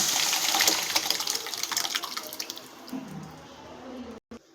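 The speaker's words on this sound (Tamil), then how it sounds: "இந்த குழம்புக்கு தேவையான அளவுக்கு நம்ம தண்ணி விட்டுக்கலாம்." Water gushes and splashes as it is poured into a pot of green gram curry, loud and close at first, then tapering into faint drips before stopping.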